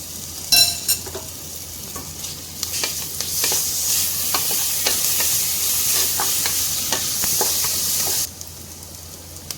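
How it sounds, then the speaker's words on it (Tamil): Onions and ginger-garlic paste frying in hot oil, with a steady sizzle and repeated scraping of a spoon stirring the pan, loud and close, ending abruptly near the close. "இப்போது 1 டீஸ்பூன் இஞ்சி பூண்டு விழுது சேர்த்துக்கலாம்."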